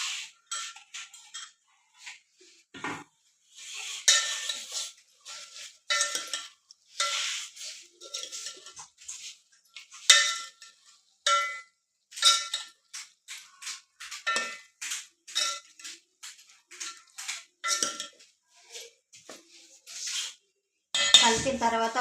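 A spoon clinks and scrapes against a pot as chopped onions and tomatoes are stirred into a home-style chicken curry, giving a close, irregular run of metallic taps and rattles with brief pauses between them.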